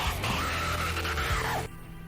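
A loud, sustained anime scream rings out for over a second and a half, high and strained with wavering pitch, then cuts off abruptly into quieter background sound.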